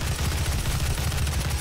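Rapid, continuous automatic fire from an assault-rifle-style weapon in the video game Doom rattles loudly in a steady stream of shots, with no talk.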